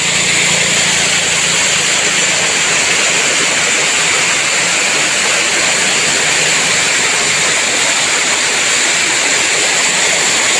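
Setawing waterfall at Jatimulyo, Kulon Progo, pours in a loud, steady roar of rushing water that fills the whole stretch without a break, close and dense, with no voices.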